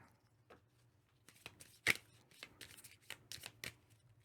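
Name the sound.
shuffling a deck of cards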